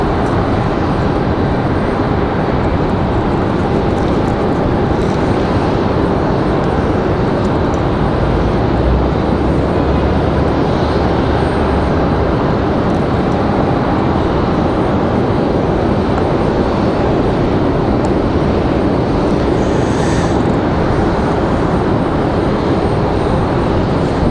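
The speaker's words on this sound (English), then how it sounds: "Gonna have a lot of general aviation departures here in just a moment." General aviation airplanes departing at Raleigh-Durham International Airport make a constant, loud engine rumble that fills the whole span at an even level, with no talking.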